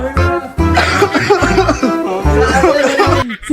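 A person coughs several times in quick bursts, close and loud, the coughs mixed with chuckling.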